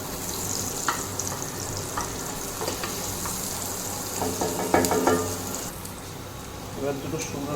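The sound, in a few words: onions frying in oil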